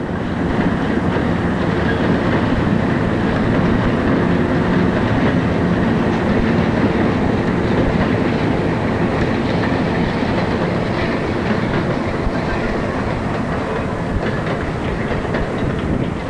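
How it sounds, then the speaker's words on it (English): A long Erie Lackawanna piggyback freight train rumbles past steadily at close range near Scranton, with a constant roar and faint rhythmic clatter of wheels over rail joints throughout. "A piggyback train dropping into Scranton."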